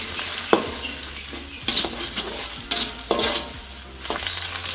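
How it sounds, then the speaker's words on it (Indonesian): Crushed lemongrass and sliced tomato sizzle in a hot pan, with several distinct scraping stirs of a spatula at an uneven rhythm, close and fairly quiet. "Aduk. Tumis hingga wangi."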